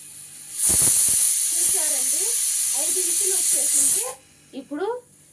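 A pressure cooker on a stove, cooking raw banana stem sambar, releases a loud, steady hiss of steam for about three and a half seconds while a voice talks underneath.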